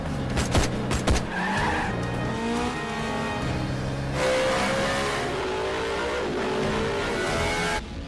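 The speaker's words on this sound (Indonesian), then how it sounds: "Malik yang melihat hal itu langsung mengejarnya dengan mobil" Car chase in an Indian gangster action film (KL Gangster), with engines revving and tires skidding and squealing loudly through most of the scene, mixed with a dense soundtrack.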